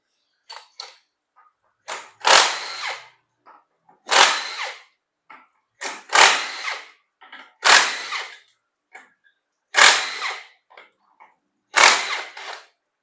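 A power tool spins off 10 mm bolts on the automatic transmission of a high-mileage Daihatsu Sigra. Loud, close bursts of rattling come about every two seconds, seven in all, with short quiet gaps between.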